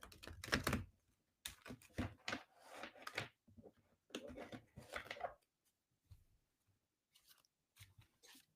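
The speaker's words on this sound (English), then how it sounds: "I'm going to shuffle the deck." Tarot cards being shuffled by hand, close and fairly quiet: bursts of crisp papery riffling and soft slaps separated by short pauses, fading to a few light taps toward the end.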